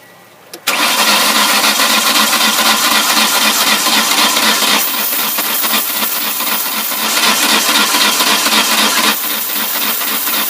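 The engine of a 1999 Ford Escort cranks without firing, a loud, continuous starter whir that runs nonstop for about ten seconds after a brief click at the start, with no speech.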